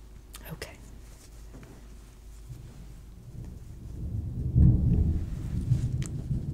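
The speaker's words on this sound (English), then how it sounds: "Sounds like there's a storm outside." A thunderstorm rumbles low and distant outside a quiet room. Soft whispering and small handling sounds sit over it, and the thunder swells toward the end.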